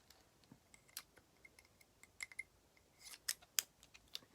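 Scissors snip through ribbon in a quiet room, a string of sharp, close metallic clicks and cuts spaced irregularly, with a faster cluster toward the end and no talking.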